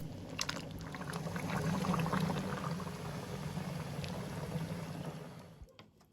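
A zucchini and mushroom vegetable stew with 9% vinegar and garlic bubbles steadily in a pot, a continuous close simmering gurgle with small pops, fading slightly near the end.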